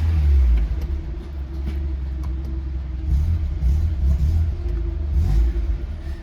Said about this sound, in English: Let's take it out for a test drive.